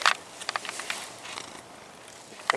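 A black feral cat purrs softly and steadily at close range, with a few faint rustles and bumps around it.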